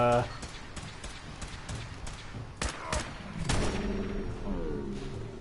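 Laser rifle shots in Fallout 4, a marksman's maximized model, crack out in a rapid run of sharp bursts with a few heavier blasts, amid game noise and under a talking voice.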